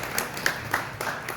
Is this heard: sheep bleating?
no